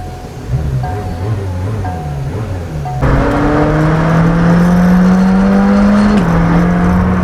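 A McLaren Senna hypercar engine drones loudly from inside the cabin, then surges louder as it accelerates, the rising engine note holding steady and strong.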